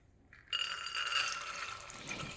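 Soaked cowpeas tipped into a cooking pot for a traditional Kerala erissery, a sudden clattering pour that starts loud and then settles into a steady rattling wash before fading, with no talk.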